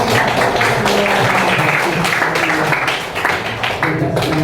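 Classroom applause for students, a steady burst of clapping from a group that fills the whole stretch, with voices mixed in underneath.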